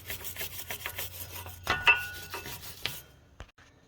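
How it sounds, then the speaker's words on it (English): A wire brush scrubs loose rust off the front brake hub of a 2014 Chevy Malibu during a rotor change, with a string of irregular rasping strokes that build, then trail off into quieter scraping. "I'm just going to use a wire brush and clean off as much of the loose rust as I can"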